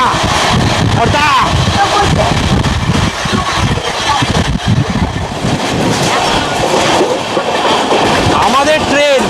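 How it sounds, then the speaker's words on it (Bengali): The Sairang Express train from Kolkata passes at speed through Barrackpore station, with loud, continuous rumble and rhythmic clickety-clack of the wheels, heard from on board, and bursts of horn-like squeals near the end. "আমাদের ট্রেন এই মুহূর্তে পার করছে আমাদের হোম টাউন ব্যারাকপুর"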